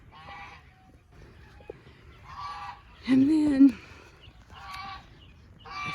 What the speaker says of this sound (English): I can't walk inside here because the geese will attack me